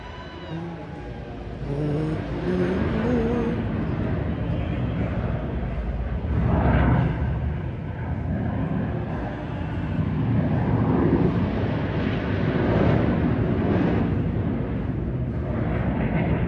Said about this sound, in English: We're about to hear the bombers go over.